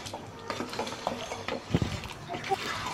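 Vegetables are stirred with spiced beef in a pot for a raw jackfruit and beef curry, with soft scraping and clinking of a utensil against metal and a faint sizzle, while someone speaks.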